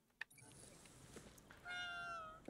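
A cat meows once, drawn out and faint, in the video game Ghostwire Tokyo, rising over a quiet game ambience near the end.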